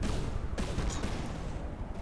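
Cannon fire crackles through a Robocraft-style robot battle in a video game, with a burst of overlapping shots and impacts in quick succession over a busy, noisy background.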